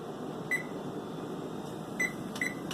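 An oven being set to preheat to 375 gives a few short electronic beeps, faint and spaced apart, over a steady hum.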